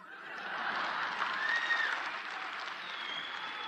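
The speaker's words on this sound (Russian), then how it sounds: "Не надо аплодисментов, это от души." Studio audience at a KVN Major League comedy contest applauding, a continuous moderate wash of clapping with faint chuckles and a whistle mixed in, swelling slightly then holding steady.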